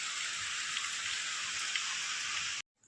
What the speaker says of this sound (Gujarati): બારે વરસાદ ચાલુ છે